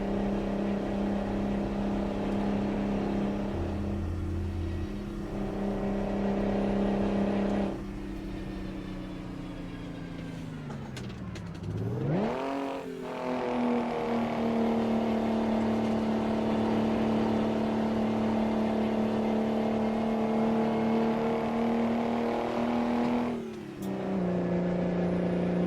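A heavy truck engine in a trucking simulator hums at a steady drone, drops and sags, then revs back up to a sustained high whine at around 2,000 RPM before settling lower, loud and continuous with no talk.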